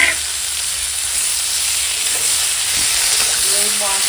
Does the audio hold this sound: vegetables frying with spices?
yes